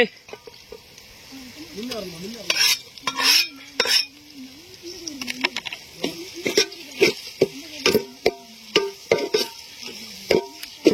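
Large onions frying and being stirred in a pan for a country chicken curry cooked outdoors in a forest, with a steady sizzle and repeated scraping and clinking strokes while a person talks throughout.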